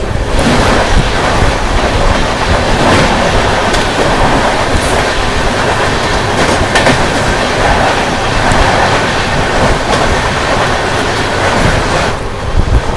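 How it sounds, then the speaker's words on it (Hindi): The Ajmer Puri Superfast Express thunders past on Indian rails, a loud, close, continuous roar of wheels and carriages with rapid clickety-clack over the joints, sustained without a break and no talking. "सामने से आ रही है अजमेर पुरी सुपरफास्ट एक्सप्रेस।"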